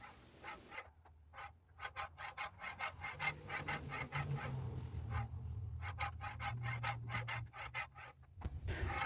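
A katana blade being sharpened on a homemade sharpener, with a steady run of close, rhythmic rasping strokes of stone on steel, repeated many times with brief pauses.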